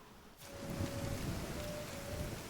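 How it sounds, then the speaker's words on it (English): Steady rain pours down in The Division 2 around Washington, D.C., a dense, hissing downpour that swells in after a brief lull and holds at a fairly loud, even level throughout. "Gotta love all that rain"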